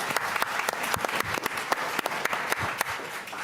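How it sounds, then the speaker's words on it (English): A lecture audience applauds at the Fourth Annual Merkur Lecture: sustained, fairly loud clapping from a crowd with sharp individual claps standing out, continuous throughout and with no speech. "Let's just give them one more big round of applause"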